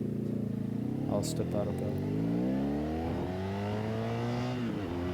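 A Honda VFR1200F V4 motorcycle fitted with a Coffman Shorty slip-on exhaust, not yet ECU-tuned, revs up with a deep, rising engine note and then settles back. Someone talks over the engine.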